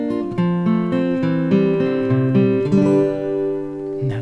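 Acoustic guitar chords from a song played together in sequence, each strum ringing into the next, close and clear with no talking.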